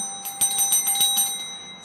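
A small bell rings with a bright, bursting chime of several quick strikes that fade out over about two seconds. It is clear and close, with no voices.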